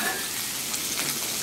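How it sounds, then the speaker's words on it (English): Salt pork fries on a Blackstone griddle top, giving a close, steady crackling sizzle of rendering fat across a brief moment with no talk. "This salt pork is what takes a real long time to cook."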